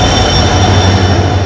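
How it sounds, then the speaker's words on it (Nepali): A train pulls into a station, its loud steady rumble and squealing wheels filling the whole stretch up close, with no voices over it. "यहाँ त हेर्नुहोस् है ट्रेन आइपुग्यो"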